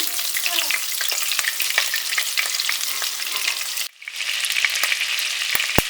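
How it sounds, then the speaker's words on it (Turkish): Two tablespoons of butter sizzle and crackle steadily as they melt in a hot pot, with sharp little pops scattered throughout and a brief dip in the middle. "Önce tereyağı eritelim."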